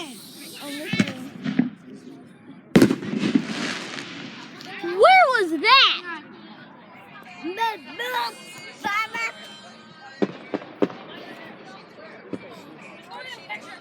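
Fireworks going off outdoors, scattered bangs and crackles with whistling rises, one sharp loud report early, mixed with nearby voices chatting throughout.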